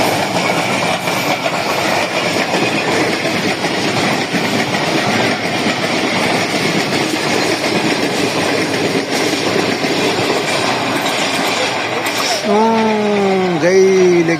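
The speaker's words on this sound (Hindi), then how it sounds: "सामने से ट्रेन आ रही है, उसको अब क्रॉस है यहाँ पर।" The Islamabad Express of Pakistan Railways roars past close by on the opposite track, a loud continuous rush of rattling wagons and clickety-clack wheels, ending with a squealing, wavering wheel screech.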